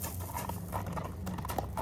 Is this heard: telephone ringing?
no